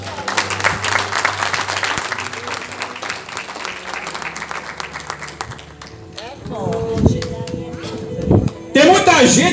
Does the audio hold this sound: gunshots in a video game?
no